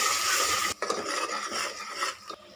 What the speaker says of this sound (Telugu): అల్లం పేస్ట్ని బాగా ఆయిల్లో ఫ్రై చేసుకోవాలి